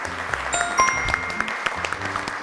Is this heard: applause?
yes